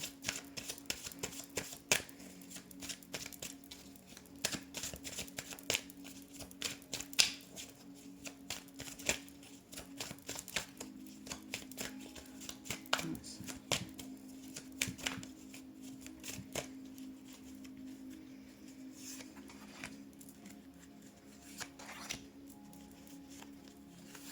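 Tarot cards being shuffled during a card reading: soft, irregular riffling and patting of the deck, fairly quiet and close, continuing steadily with a low steady hum underneath and no voices.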